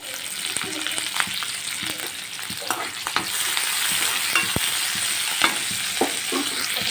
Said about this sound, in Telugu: కొద్దిగా ఆనియన్స్ అలానే చిన్నగా తరిగి పెట్టుకున్న పచ్చిమిర్చి వేసి బాగా ఫ్రై అవ్వనివ్వాలండి